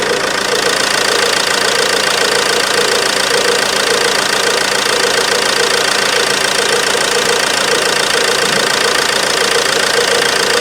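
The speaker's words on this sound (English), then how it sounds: "I have started the engine back" A Ford Transit Connect 1.8 TDCi Duratorq diesel engine idles steadily and loudly up close, with a constant knocking clatter that holds evenly throughout and no talking.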